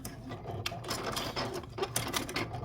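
A sewing machine runs a stay stitch around appliqué fabric on a quilt block, giving a close, quiet burst of rapid mechanical stitching with a fast, even needle rhythm for a few seconds.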